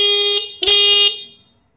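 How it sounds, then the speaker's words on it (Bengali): A Bajaj Platina 110cc motorcycle horn, a 2025 OBD model, gives two loud, close electric honks: a short blast, then a longer one that fades out. "হর্নটা একটু শুনিয়ে দেবো আপনাদের"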